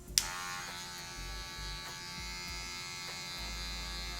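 Electric hair clippers buzz steadily and close up while cutting a fade haircut, a continuous hum with a brief sharp click at the start as the blade works along the head.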